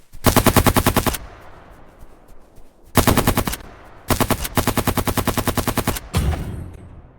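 Marksman rifle fire in the video game Silica, heard as loud, close bursts of rapid shots with short quiet gaps between them, no talking.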